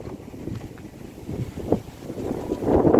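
Strong, gusty wind buffets the microphone outdoors in Ubon while an airplane-shaped kite is flown, a rough rumbling roar that swells louder toward the end.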